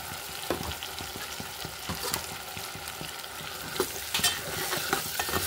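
Blended paste of fried onions and tomatoes sizzles in hot oil while a spoon stirs and scrapes the pan, with a constant close hiss and regular stirring knocks.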